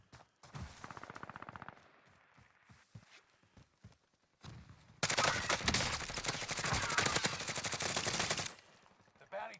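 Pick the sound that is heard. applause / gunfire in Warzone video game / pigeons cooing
gunfire in Warzone video game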